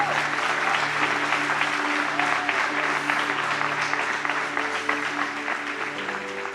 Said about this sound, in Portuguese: Aplaude Jesus.